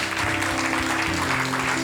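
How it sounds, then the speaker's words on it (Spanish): Church congregation applauding at the close of an evening service, a dense steady clatter of many hands filling the room, with some background tones beneath. "Dale un fuerte aplauso a Dios."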